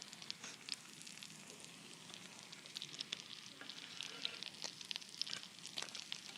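Masala-coated fish fries in a pan with a faint, steady crackling sizzle, dotted with small pops and spits throughout.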